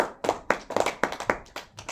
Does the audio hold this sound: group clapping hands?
yes